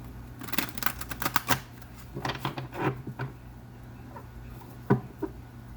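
Tarot cards shuffled by hand in a quiet room, a series of quick crisp riffling clicks and snaps in short bursts with pauses between them, close and fairly soft.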